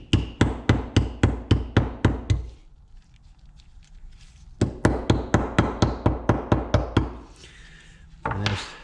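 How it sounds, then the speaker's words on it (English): A hammer taps repeatedly around a hole to cut a gasket for a pressure washer repair, crisp rhythmic knocks in two quick runs separated by a short pause, close and clear with no talk. "I'm just gonna tap around the hole."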